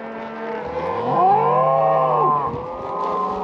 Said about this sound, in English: Couple ornery cows up way on top of the hill.